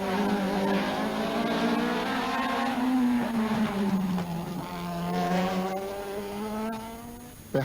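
A 2-litre Ford Escort rally car on the Killarney Rally of the Lakes roars past with a loud, sustained engine note that rises and falls through gear changes as it approaches and recedes.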